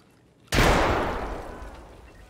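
A single loud gunshot or short burst of gunfire in the video game Escape from Tarkov cracks out of near silence, then rings off in a long, fading reverberant tail.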